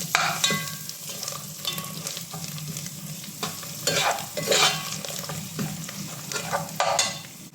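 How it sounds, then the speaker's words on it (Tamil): Coriander stirred into ginger garlic paste frying for tomato rice, with a continuous sizzle broken by repeated scraping strokes of a spoon against the pan. "இப்போ ஒரு 5 விரல் அடங்குற மாதிரி கொத்தமல்லி சேர்த்துக்கோங்க. ஒரு வாட்டி மிக்ஸ் பண்ணி விட்டுருங்க."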